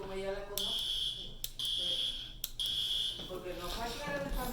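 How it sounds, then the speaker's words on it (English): A fire alarm sounds in a building, repeating a loud high electronic tone in three long bursts separated by brief gaps, with people talking faintly underneath. "There's another fire alarm over here."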